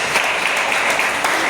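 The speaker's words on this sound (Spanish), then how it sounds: "Denle un aplauso al Señor." A church congregation claps loudly and steadily during a Spanish-language sermon, giving a brief, close burst of dense applause.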